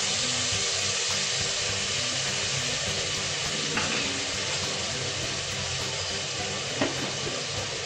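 Finely chopped onions with a pinch of salt frying in a pan, a steady, close crackling sizzle with an occasional faint scrape of stirring.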